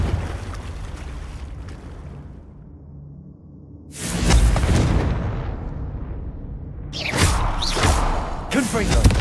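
A Confringo blasting spell in Hogwarts Legacy, heard as two loud, broadband explosive bursts with whooshing tails, one near the middle and another toward the end, after a quieter rumbling stretch.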